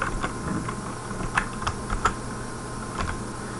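Someone types a printf function on a computer keyboard: a run of light, irregular key clicks close by, with a few sharper taps, under steady room hum and no talk.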